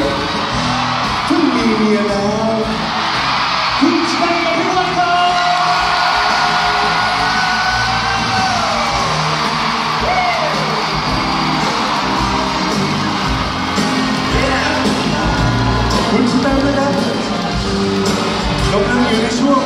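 At a red-carpet event, a crowd whoops, yells and cheers to welcome a singer-songwriter, a dense, lively roar with voices calling out over it throughout.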